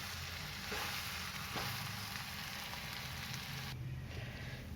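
Spiced samosa vegetable filling sautés in a pan, a steady close sizzle and crackle with occasional soft stirring scrapes, no voices.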